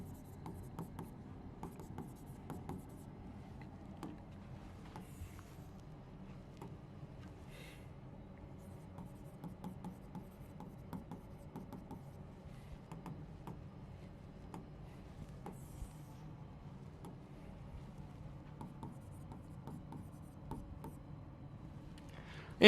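Chalk or marker scratches across a classroom board as polynomials are written, faint scraping strokes running steadily beneath a quiet room, with a teacher's voice at times.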